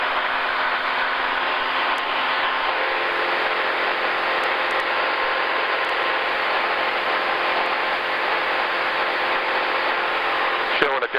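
Steady drone of the Sonex N604CM light aircraft's engine in flight, a constant close hum heard from inside the cockpit for the whole stretch, with no pauses and a faint click near the end.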